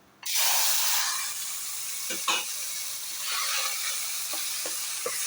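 Onion paste with mustard seeds hits hot oil and sizzles loudly at once, then keeps up a steady frying hiss, broken by a few soft stirring scrapes.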